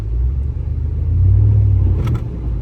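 A pickup truck engine rumbles steadily and loudly up close while plowing snow, a low continuous drone with a slight rise midway, no talk.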